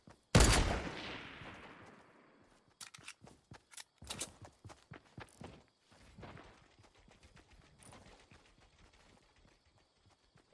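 A Fortnite Battle Royale gunfight: a loud opening blast with a long decaying echo, followed by sporadic sharp shots and clusters of quick reports, some nearer and some distant.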